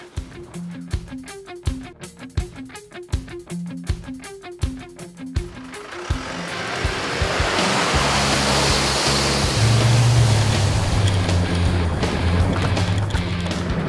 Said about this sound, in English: Nicely through the sand there, plenty of torque, a bit bouncy, watch these rocks.